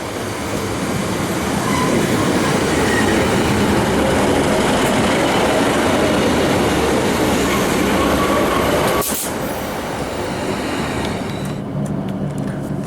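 A refurbished Class 156 diesel train at Glasgow Central, heard from inside as a loud continuous rumble and rolling wheel noise that eases slightly in the final seconds.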